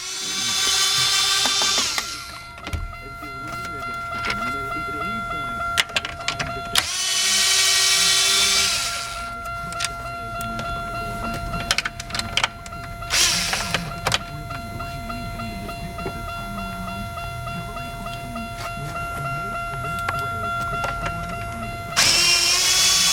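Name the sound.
power driver removing 7mm screws from Buick Century instrument cluster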